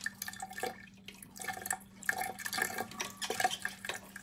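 Water runs from a tap in a vacant house, a steady splashing stream with drips, close by and moderately loud, no talk.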